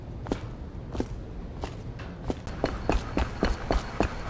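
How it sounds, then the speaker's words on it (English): Footsteps across roof tiles in the Dishonored video game, a run of crisp clattering steps that starts sparse and quickens into a steady faster rhythm, heard alone over a low ambient hum. "Footsteps along the tiles of a roof."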